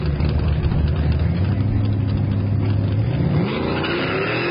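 Two drag cars, a Corvette and a Ford Fox body, race at Hot Rod Drag Week in Tulsa, Oklahoma, with loud sustained engine roar and rising pitch as they accelerate hard away, no talk over it.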